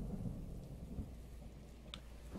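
Thunder rumbles low and steady with rain in the Zelda: Breath of the Wild game world, a continuous dull roll with one brief sharp crack partway through and no talking.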